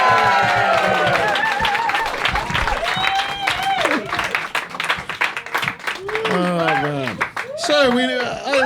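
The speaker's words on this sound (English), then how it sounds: "Big round of applause as they leave the stage." A live comedy audience in London claps and cheers as performers leave the stage, the applause moderately loud and uneven while voices and whoops rise over it toward the end.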